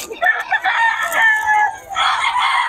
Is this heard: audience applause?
no